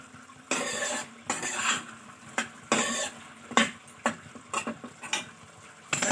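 Soybean masala with capsicum is stir-fried in a pan over high heat. A spatula scrapes and knocks against the metal in irregular bursts over a soft sizzle, close and clear, with no speech.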